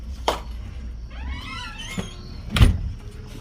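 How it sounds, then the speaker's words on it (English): A door being pulled shut, with a squealing creak of the hinges followed by a solid thud as it closes, close by and fairly loud over quiet background. "Wait, let me close the door."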